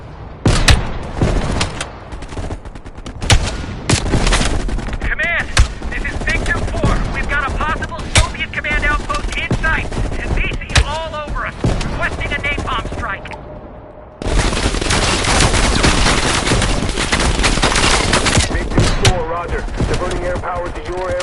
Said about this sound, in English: A few allies were pinned down on a ridge. You readied your sniper rifle to assist.